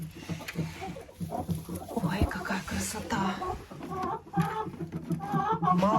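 Backyard hens clucking and murmuring near the coop in winter, a busy run of overlapping short calls at moderate loudness, with a few louder squawks rising above the flock.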